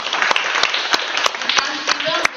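Audience applause at a pharmaceutical festival session, a steady clapping wash with sharper individual claps standing out over about two and a half seconds, fairly close and moderately loud.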